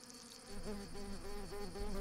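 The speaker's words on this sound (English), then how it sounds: "worker wasps head out from the colony" Worker wasps buzzing as they fly out from their colony in the European wild, a close droning hum that rises and wavers in pitch, steady and alone.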